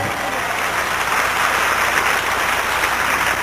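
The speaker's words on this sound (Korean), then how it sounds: "박수치며 하나님께 영광" A church congregation clapping at a New Year blessing revival service: broad, even applause that runs continuously, loud and close, with no talk over it.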